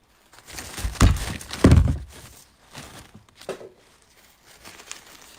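Material for a pink fall table centerpiece being cut, two loud crunchy snips close up around the one- and two-second marks, followed by softer rustling and handling.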